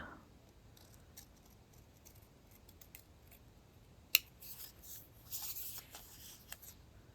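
Scissors trim a small handmade craft tag, giving one sharp snip partway through and then a few light cuts and rustling paper, all fairly quiet with no talking.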